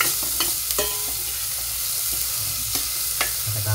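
Food browning in a hot frying pan while being stirred, a steady close sizzle with scattered scraping and clicking strokes of the utensil, no voices.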